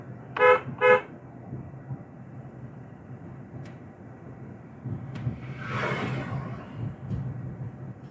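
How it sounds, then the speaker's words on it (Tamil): Two short, loud car horn honks in quick succession during a driving lesson, followed by the steady hum of the vehicle interior and road noise. "ஹார்ன் அடிச்சிருங்க"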